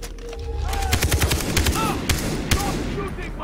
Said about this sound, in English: Stop shooting, motherfucker!